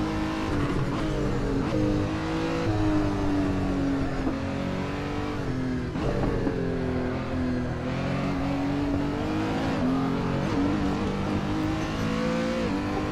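Renault R.S. 01 race car engine in Assetto Corsa at the Nürburgring, loud and continuous, revving up and down through gears on and off throttle, alone with no talk.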